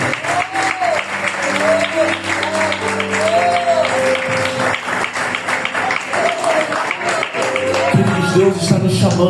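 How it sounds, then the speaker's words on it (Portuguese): A church congregation claps during a worship service, a busy layer of hand clapping blended with sustained musical tones and voices, loud and continuous throughout. "Aplauda o nome do Rei, aplauda o nome do Senhor."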